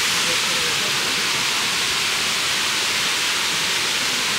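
Waterfall in a cave area, a loud, steady broadband rush of falling water that fills the space evenly without pauses, with no clear speech over it.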